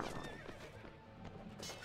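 A horse in The Last Days of The Third Age video game lets out a short, faint whinny over clip-clopping hooves and battle noise, under two seconds long.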